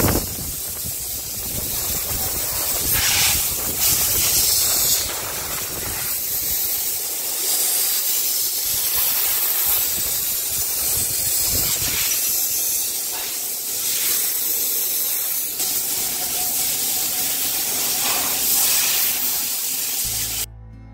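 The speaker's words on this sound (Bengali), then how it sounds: "এখনো বাইকের কাজ সম্পূর্ণ হয়নি, এখনো ওয়াশের কাজ চলছে, তারপর পালিশ হবে।" A pressure washer sprays water over a motorbike in a continuous loud hiss that rises and falls slightly as the jet moves, lasting about twenty seconds before cutting off at the very end.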